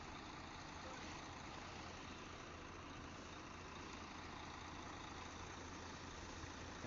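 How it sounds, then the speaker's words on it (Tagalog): A tanker truck engine idles steadily and loudly nearby, a constant low rumble with a broad mechanical hiss that holds unchanged throughout, with no talking. "Rinig na rinig dito yung tunog ng truck natin mga sadik."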